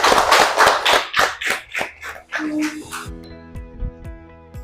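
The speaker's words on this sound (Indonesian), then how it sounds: "Tepuk tangan lagi untuk kita semua" A group of schoolchildren in a classroom clapping in rapid unison, a quick burst of sharp claps for about three seconds, followed by a few scattered taps and a sustained musical tone.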